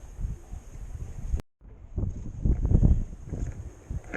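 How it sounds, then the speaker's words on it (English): Strong wind buffets the microphone on a fishing boat out on a lake, a rough, gusty roar that drops out briefly and then returns louder, with no speech over it. "You can hear the background. The wind pretty strong."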